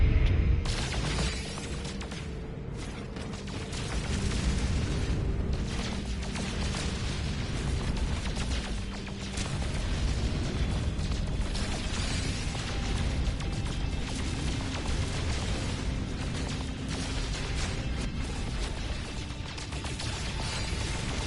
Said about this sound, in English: That's the sound of my ship, or if there's a bigger ship behind me.